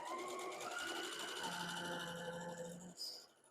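A sewing machine stitches quilt fabric in a rapid, even mechanical whir with a slight rise in pitch, then slows and stops with a small clunk near the end, fairly faint and close.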